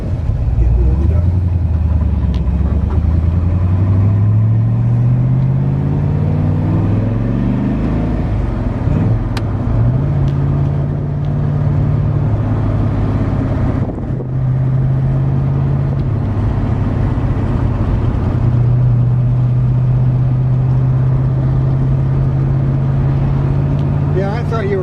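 A 1972 DeTomaso Pantera engine warming up, its revs climbing and then settling into a loud, close, wavering idle that runs steadily throughout, with voices talking over it.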